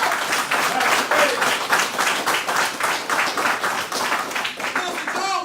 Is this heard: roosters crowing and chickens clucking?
no